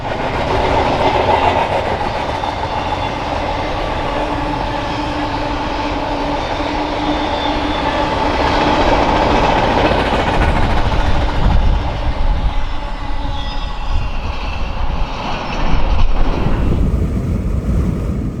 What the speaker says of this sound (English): this train is solid international intermodal containers bound for the port of Los Angeles and Long Beach